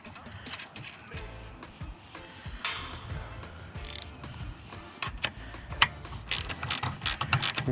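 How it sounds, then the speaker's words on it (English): A ratchet spanner tightens bolts on a Darche shower tent mount, giving quick bursts of close, crisp clicking with pauses and small metallic handling knocks between them. "it's definitely handy having these ratchet spanners that come with kits these days"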